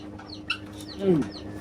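A young rooster named Kamui, one of a triplet, gives a short low clucking call close by, with faint bird chirps and a soft voice in the background.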